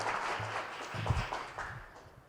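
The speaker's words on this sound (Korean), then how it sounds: "여러분의 뜨거운 박수 부탁드리겠습니다" Audience applause rings out at an awards ceremony honoring winners at the 2022 Korea Venture Entrepreneurship Society autumn conference, a soft steady patter of clapping that gradually tapers off.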